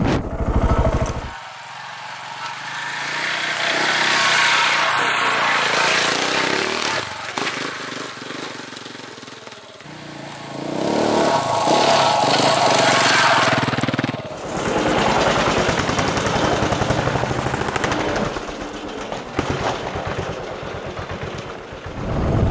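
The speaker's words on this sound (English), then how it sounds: "All you're doing is feathering the clutch while giving it a bunch of gas at the same time" An adventure motorcycle climbs a steep, rough hill as the rider feathers the clutch while applying throttle, its engine roaring loud and close, surging and easing in waves over about twenty seconds.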